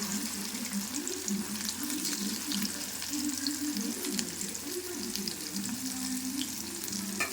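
Sardines fry in a pan with curry leaves in hot oil, giving a steady close sizzle and crackle that runs throughout with a few stirring scrapes and no talk.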